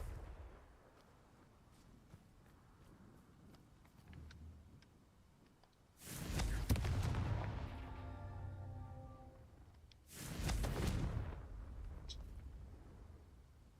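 Confringo spell blasts in the video game Hogwarts Legacy: two loud fiery bursts a few seconds apart, each with a rumbling tail that trails off, set against quiet background ambience with faint ticks.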